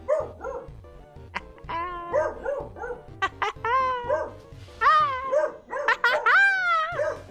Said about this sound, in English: dog, bark if I'm doing good